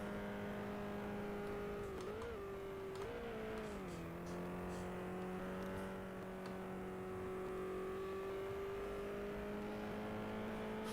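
An F3 race car in the F1 Challenge racing game drifts through corners with a continuous, high engine drone that dips and recovers in pitch, heard alone at a low level.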